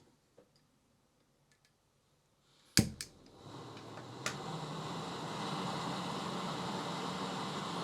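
A Soto Windmaster gas burner catches after a few sharp igniter clicks and a pop, then settles into a steady, broad roaring hiss that runs to the end, close and moderately loud, with no one speaking.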